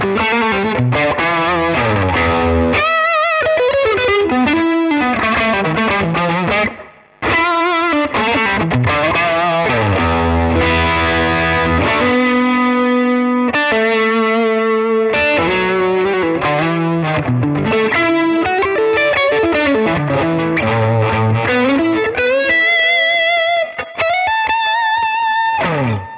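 Electric guitar run through a Tonex pedal preset with compression, chorus modulation, reverb and distortion, playing loud sustained chords and melodic lines with a brief pause near seven seconds.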